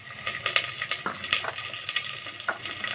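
Potatoes sizzle and crackle in hot oil, with scattered popping and occasional stirring scrapes, close and steady throughout.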